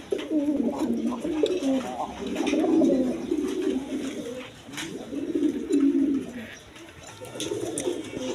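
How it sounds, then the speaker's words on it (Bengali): A pair of large, big-crested Bombay pigeons coo repeatedly in low, rolling phrases, close and fairly loud, with a few brief chirps among them. "এখানে এক পেয়ার হাই কোয়ালিটি বোম্বাই কবুতর আছেন"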